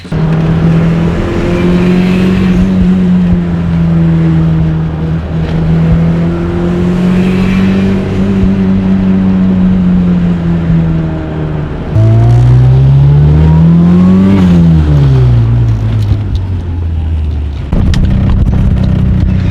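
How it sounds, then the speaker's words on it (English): Toyota Starlet race car accelerating hard on a test drive, its loud engine note holding a steady drone, then dropping on a shift and climbing again in revs, continuous and close with no talk. "All right, so we're gonna take a test drive."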